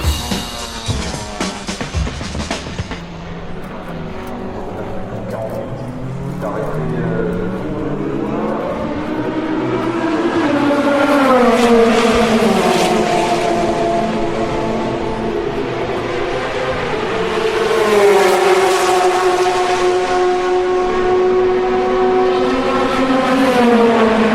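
Racing car engines at the Le Mans race roar and whine continuously, with rising and falling pitch as cars accelerate and pass, loud and steady throughout with no voices.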